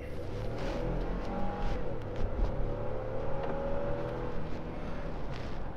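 A 2015 Ford F-150 XLT SuperCrew 4x4 pickup accelerates hard from a 20 mph roll, its engine a steady, loud, low drone heard from inside the cab, rising gradually with no talking.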